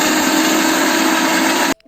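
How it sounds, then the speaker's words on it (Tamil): A blender churns curd, icing sugar and ice cubes for lassi, a loud, steady whirring drone that holds evenly and then cuts off abruptly near the end. "இப்போ எல்லாத்தையும் போட்டுட்டு நம்ம ஒரு பிளெண்ட் பண்ணிக்கலாம்"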